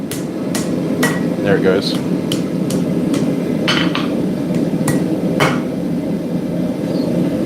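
Hammer blows ring out on hot steel being forge-welded for a kiridashi knife at a smithing forge, a string of sharp strikes in uneven rhythm over a steady forge roar, with a brief spoken remark.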